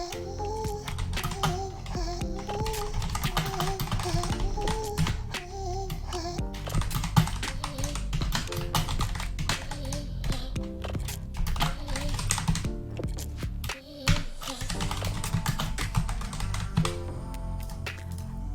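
Quick, irregular clicks of typing on a computer keyboard run continuously, with soft background music underneath.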